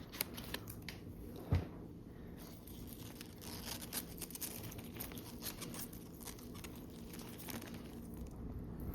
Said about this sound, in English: Grab the scissors. You're gonna get underneath it and just snip it.